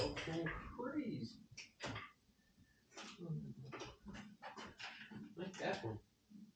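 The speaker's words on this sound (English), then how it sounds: "Puppy dog's going crazy." A puppy pants and whimpers excitedly with a few yips, mixed in close among people talking while they fetch tools near a rattling truck.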